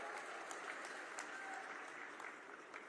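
Steady applause from a large crowd at a political rally in Chittorgarh, Rajasthan, welcoming the chief minister; continuous dense clapping at a fairly even level, tapering slightly near the end.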